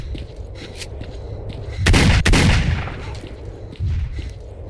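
Gunfire in the S.T.A.L.K.E.R. video game, with an MP40 in use: a dense loud burst of shots around the middle, another short burst near the end, over steady ambient game noise and no speech.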